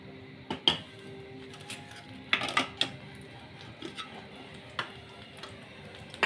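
A hot kadhai with ghee is stirred, the spatula giving sharp scattered clinks and scrapes against the metal over a faint background hum, close and irregular.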